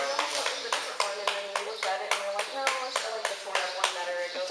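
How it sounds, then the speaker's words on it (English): A single person claps hands in a steady run of sharp, regular claps, close and fairly loud, on a film set inside a house. "I thought someone was clapping for themselves."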